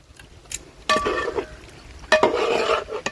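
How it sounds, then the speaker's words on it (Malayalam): A spoon stirs masala with pidi rice dumplings in a pot, with two bursts of scraping and clattering against the metal over a soft sizzle, and no voices. "നമ്മുടെ മസാല പിടി കൂടെ നല്ല മിക്സ് ചെയ്യണം കേട്ടോ"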